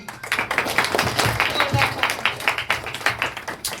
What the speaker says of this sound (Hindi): जोरदार तालियां बोलिए।